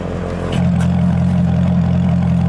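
A 2013 Corvette ZR1 idles with a low, steady exhaust rumble that swells a notch after a moment and then holds a deep, even drone.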